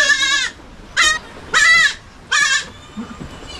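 Goats on a farm bleating four times in quick succession, loud, wavering calls with short gaps, close by.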